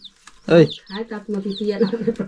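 Hens clucking in a home yard where chickens are kept, with a rooster present; a short run of near, fairly loud clucks and rising calls, close to the listener, with no talking.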